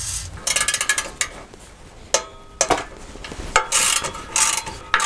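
A ratchet works on the exhaust bolts of a SsangYong Rodius rear section. Bursts of quick metallic clicking come close up, pause, then resume several times.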